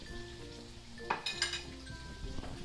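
King prawns and vegetables stir-frying in a wok, with a soft sizzle under a few sharp metallic clinks and scrapes of a utensil against the pan.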